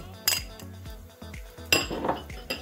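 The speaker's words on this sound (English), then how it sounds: "pack the rice into the bowls like so" Cooked rice being packed into bowls in a home kitchen for omurice, with a spoon knocking and scraping against the bowls: a few sharp clinks and clatters between softer pressing and rustling.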